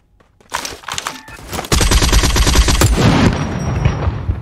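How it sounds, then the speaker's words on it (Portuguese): Rapid bursts of automatic gunfire in the shooter game Badlanders at Red River Port, starting in scattered shots and building into loud, sustained overlapping fire near the listener. "Tá atirando no Raditz, tá atirando no Raditz"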